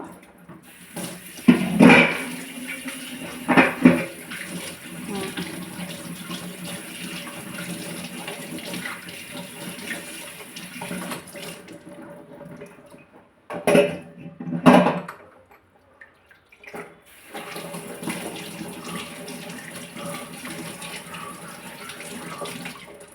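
Tap water runs steadily into a sink as a brass oil lamp is rinsed, with brief louder splashes and clatter, a short pause, then the flow resumes at close range with no talking.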